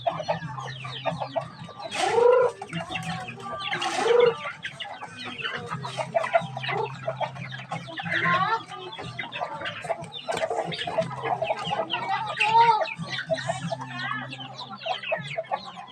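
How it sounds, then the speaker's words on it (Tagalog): Backyard chickens at feeding time cluck and squawk near the microphone in busy bursts, with a few louder calls and a low steady hum underneath. "Magpakain tayo guys sa ating mga manok."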